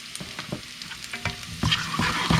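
Garlic and brown sugar sizzle in a stir fry, a crackling fry that turns louder and denser partway through as more goes into the hot pan, with stirring scrapes and no voices.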